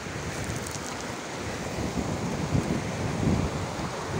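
River in Kumrat valley rushing steadily nearby, a constant broadband roar with some wind noise and no talk.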